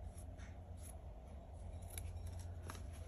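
Close, quiet snipping and rubbing of scissors trimming a paper flap during DIY journal-making, sounding steadily for a few seconds over a low background hum, with nobody speaking.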